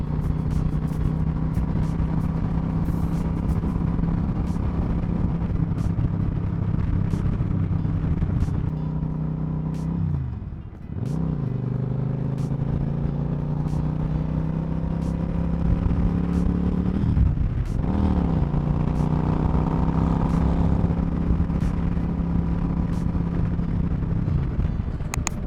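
A motorcycle is ridden along a road in a heatwave, its engine droning steadily and loudly for the whole stretch, with two short dips in pitch as the rider shifts gears.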